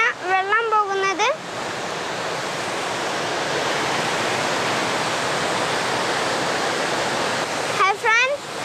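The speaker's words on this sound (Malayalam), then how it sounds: "നമ്മുടെ പുതുക്കുളങ്ങരയിലെ വെള്ളച്ചാട്ടം" Kattara waterfall at Puthukkulangara pours in a steady, loud, broadband rush that fills most of the stretch, with a voice talking briefly before it swells and again as it ends.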